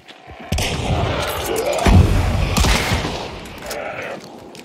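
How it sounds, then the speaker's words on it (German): Shotgun blasts booming in the co-op shooter Hunt: Showdown, a couple of heavy shots amid game ambience and rumble, with voices talking over the action. "du hast doch mit der Schrotflinte drauf geschossen"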